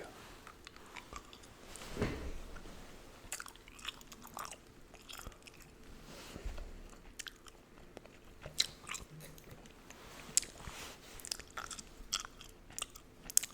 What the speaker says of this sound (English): Chew some gum too.